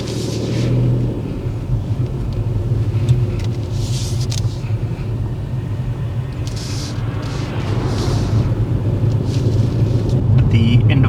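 A learner driver's car moves off during a driving test, its low engine rumble and road noise steady and close from inside the cabin, building slightly toward the end.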